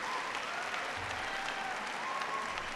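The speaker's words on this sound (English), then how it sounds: "Give her a big round of applause." An audience in North Carolina applauds Governor Bev Perdue at a presidential event, a steady wash of many hands clapping at moderate, distant-sounding volume throughout.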